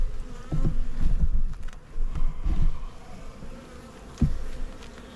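Honey bees hum and buzz close up around an opened beehive during a spring inspection, a continuous droning swarm with louder passes and occasional handling bumps, no talking.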